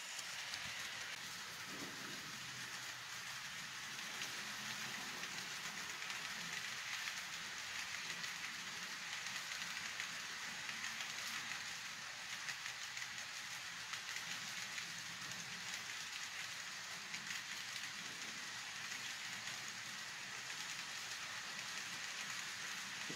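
A steady, hissing rumble of a long model train running continuously around a layout at a moderate distance, with faint rhythmic clatter and no voices.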